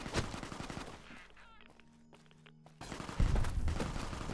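Enemy gunfire in Fallout New Vegas, rapid bursts of game shots at the start and again near the end, with a quieter gap in between.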